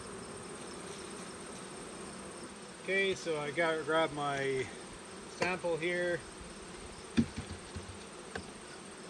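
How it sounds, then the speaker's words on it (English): Honey bees droning in a tub after being dumped in during a varroa mite check, a steady low insect hum throughout with someone talking briefly over it. "I've dumped my bees in, and the forager bees, the older bees, will fly off."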